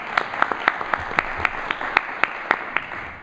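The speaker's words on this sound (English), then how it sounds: "we should give him a round of applause" An audience at a business event gives a guest speaker a round of applause, with scattered hand claps standing out over the steady clapping for a few seconds.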